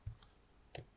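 Two crisp, close clicks from pressing keys on a computer keyboard, spaced under a second apart in an otherwise quiet room.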